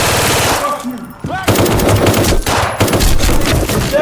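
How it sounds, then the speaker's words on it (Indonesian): Loud rapid machine-gun bursts and gunshots ring out in a film shootout during a drug raid, near and continuous with a brief lull, under faint voices. "Baku tembak terjadi sebelum mereka berhasil mengamankan lokasi"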